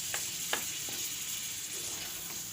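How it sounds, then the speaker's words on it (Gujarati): Soaked fenugreek seeds and green chilies frying in oil for a methi-marcha shaak, a quiet, steady sizzle with a few soft stirring clicks, no voices. "હવે મેથીને અને મરચાંને આપણે તેલમાં સડવા દેવાનું છે સરસથી"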